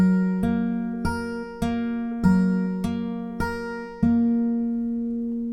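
Fingerstyle acoustic guitar picks out part of Alan Walker's Faded, with about seven separate plucked notes ringing and decaying one into the next at a slow, even pace, played alone and close up.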